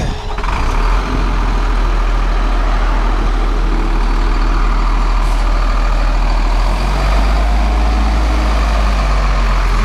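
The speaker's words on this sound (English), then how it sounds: "That's a large vehicle that they would have me ride side by side with." A large truck passing on a roadside, a loud continuous low engine rumble with broadband road roar filling the whole stretch, close and steady without talk.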